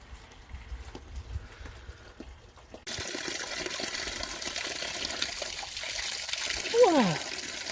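Spring water trickles and splashes steadily into a log trough nearby on a mountain trail, growing fuller after a moment, with a brief voice heard faintly at the start.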